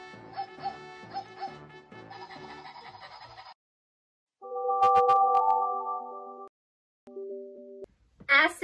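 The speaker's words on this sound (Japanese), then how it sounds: "私の愛犬のステファニーよ。" A pet dog barks in a few short bursts with clucking, synthetic-sounding tones around it, loud and close, with gaps of silence between the bursts.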